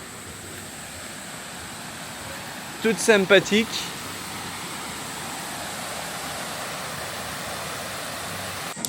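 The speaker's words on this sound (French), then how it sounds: "Et juste à côté, on a une petite cascade." A small waterfall in the Australian outdoors gives a steady, even rush of falling water throughout, with a person speaking briefly partway through.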